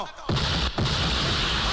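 Gunfire in a Hindi action film scene: two sharp, loud shots, one at the very start and another a moment later, each with a booming tail over a dense, noisy background.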